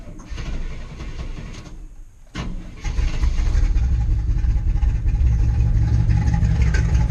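A Chevrolet C10 squarebody truck with dual straight-pipe exhaust and a cherry bomb muffler on each side cranks, stumbles through a short gap, then catches and settles into a loud, steady, rumbling idle up close.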